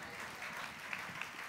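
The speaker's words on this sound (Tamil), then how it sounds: "கைத்தட்ட ரெடியாக இருங்க" Applause from a congregation during a live Tamil sermon, a steady broadband clapping that stays even across the short stretch, moderately loud with no speech.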